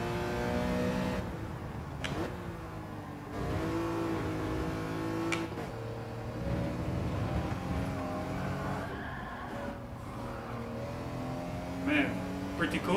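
A race car engine in Gran Turismo 7 revs and drones steadily, pitch rising and falling as it accelerates, with a brief skid-like squeal and a voice talking over it.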